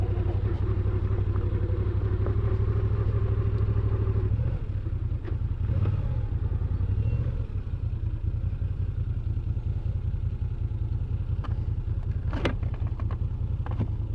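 Motorcycle engine running steadily during a ride to dinner, a loud continuous low drone with rising and falling revs and some clatter, no speech over it.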